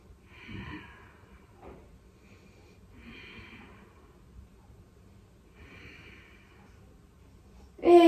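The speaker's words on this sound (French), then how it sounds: "Encore 4 respirations." Slow, deep breaths through the nose during a home yoga exercise, soft inhales and exhales repeating about every two and a half seconds in a quiet room, with a louder knock at the end.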